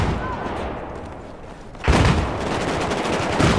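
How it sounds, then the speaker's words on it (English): A JNG-90 sniper rifle fires in the video game Battlefield 4, one loud, sharp shot cracking out over constant battle noise. "Let's see what we can do with a sniper rifle."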